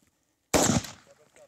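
One loud, close gunshot on a Namibian reserve: a sharp crack with a short decaying echo, then quiet.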